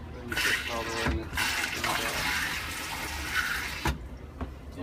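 Water runs steadily into the toilet bowl of a 2015 Fleetwood Discovery 40G motorhome as the flush pedal is held down, a close hissing pour of a few seconds with brief pauses at the start and end.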